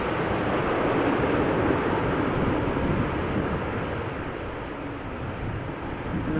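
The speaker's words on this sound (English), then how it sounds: "And another departure in the distance." An airliner departing in the distance at Amsterdam Schiphol on a windy day, a steady broad rumble that swells slightly then eases, with no voices.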